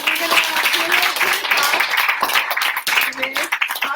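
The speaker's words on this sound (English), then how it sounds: "Let's give them another round of applause." Audience applause at a live talk at The Mantra House in Los Angeles, brisk clapping from a modest crowd that overlaps with a speaking voice throughout.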